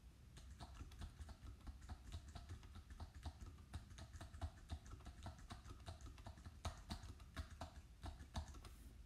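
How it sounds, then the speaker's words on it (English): Soft, rapid key presses on a Braille keyboard tap away steadily in quick irregular bursts, faint and close, with no talking. "I typed that in contracted Braille on my Focus keyboard"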